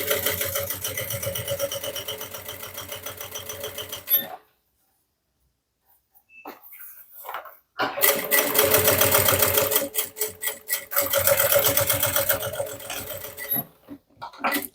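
A sewing machine runs in bursts while stitching reinforcement along the ends of a handbag, with a close, steady mechanical whirr that stops for a few seconds and then resumes twice.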